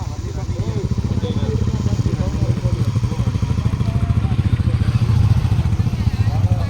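A motorcycle engine idles steadily up close on a hill-station bike trip in Yercaud, its rapid, even low thrumming pulses running throughout while people talk over it.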